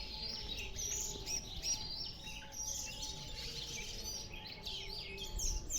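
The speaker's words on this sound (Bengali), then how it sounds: "চারিদিকে পাখির কলকাকলি।" Several birds chirp and twitter around a quiet human resource development training centre in Kotta, Manikganj, a continuous bright chorus of small calls at moderate distance, without talk.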